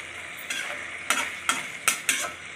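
Ginger sizzles in a pan after a splash of water is added, a bright steady hiss broken by five sharp spatula scrapes and stirs, close and loud with no talking.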